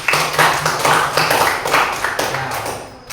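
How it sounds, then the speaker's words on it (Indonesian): Loud, close clapping from a classroom group in Indonesia, a rapid run of sharp hand claps in quick bursts that tails off after about three seconds. "Tepuk tangan."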